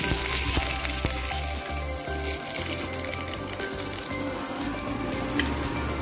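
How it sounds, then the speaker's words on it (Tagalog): Tinapa, a smoked fish, fries in hot oil with a steady, dense crackling sizzle that runs unbroken throughout. A low, rhythmic hum pulses underneath it. "Pag mainit na yung mantika, pwede na natin iprito ang tinapa bago natin siya gawing fillet."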